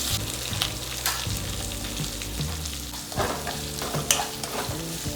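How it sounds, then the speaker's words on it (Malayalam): Sliced onions sautéing with whole spices in a pan for chicken tahari: a lively close sizzle with repeated stirring scrapes and clicks, under quiet background music. "ഞാൻ സവാള അരിഞ്ഞതും കൂടി ചേർത്ത് കൊടുക്കുന്നുണ്ട് നന്നായിട്ടൊന്ന് വഴറ്റിയെടുക്കണം"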